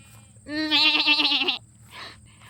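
A flock of sheep, seen in Wyoming, gives one long, loud, wavering bleat up close, followed by a fainter bleat from further off.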